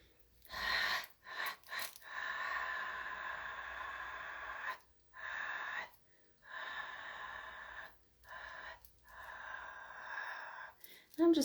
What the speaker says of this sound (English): I'm just going to breathe in.